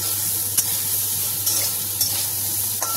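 Soya chunks fry in a pan for a spiced kosha, giving a steady, close sizzle with a few faint clicks of stirring and no talk.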